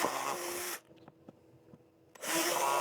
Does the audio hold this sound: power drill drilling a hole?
yes